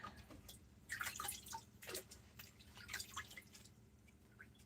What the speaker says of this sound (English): Actually, I can just rinse this in the bucket.